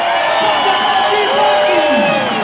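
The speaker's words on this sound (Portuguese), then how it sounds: "Pode aplaudir" Crowd noise at a São Paulo state political party convention, a steady loud wash of cheering and voices sustained through the whole stretch, with a speaker's amplified voice running over it.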